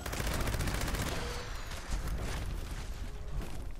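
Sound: Gauss minigun firing in video game Fallout 76

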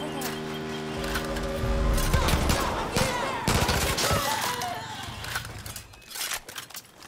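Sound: gunfire in the video game Far Cry: New Dawn

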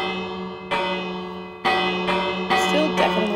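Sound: bells rung in Minecraft video game

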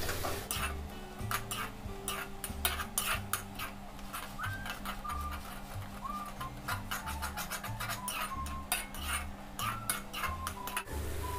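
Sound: stirring and frying mint paste in a pan

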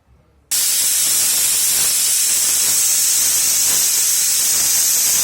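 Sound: pressure cooker steam hissing

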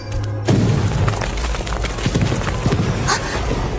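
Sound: gunshot

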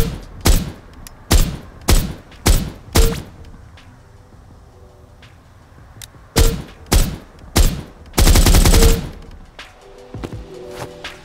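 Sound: gunfire from weapons in indie multiplayer FPS video game shooting range

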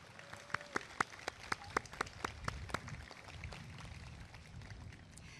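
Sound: audience applause at commencement ceremony

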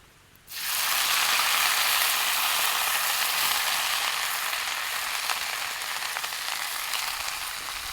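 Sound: sarata greens frying in hot oil in a kadhai

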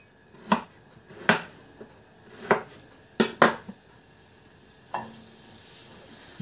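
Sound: potatoes tossed into a frying pan without oil

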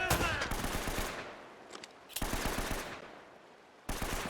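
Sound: gunfire in a video game

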